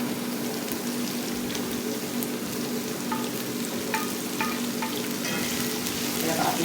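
Vegetables for chow mein sizzle steadily in a hot pan as they are stir-fried, a loud continuous frying hiss with faint scraping clicks of stirring.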